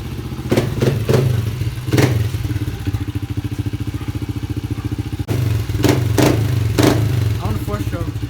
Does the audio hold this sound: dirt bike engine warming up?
yes